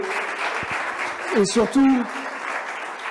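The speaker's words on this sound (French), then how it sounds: "je voudrais qu'on vous applaudisse, qu'on vous félicite pour votre réussite" An audience applauds graduates at an awards evening celebrating their success, a sustained crowd clapping that continues the whole time, with a voice speaking over it.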